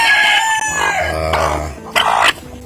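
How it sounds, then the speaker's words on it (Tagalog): A free-range mother hen clucks and calls close by among her newly hatched chicks, giving a run of loud, throaty clucks and drawn-out calls with no talk. "These are the chicks of the mother hen."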